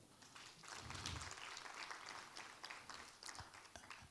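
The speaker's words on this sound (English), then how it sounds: "Can I round of applause, please?" Applause at a workshop, a modest crowd clapping steadily for a few seconds, somewhat distant and fairly quiet, with a few sharper individual claps standing out near the end.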